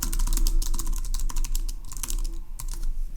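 A search query typed on a computer keyboard: rapid, irregular key clicks close to the mic over a low hum, with brief pauses.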